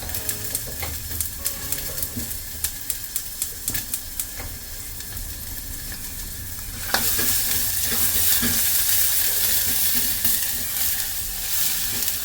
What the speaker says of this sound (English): I like to add these in to fry it a little bit to release the flavors